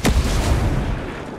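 A frag grenade goes off in the shooter game Ghost Recon Breakpoint, one loud close blast with a rumbling tail that slowly fades.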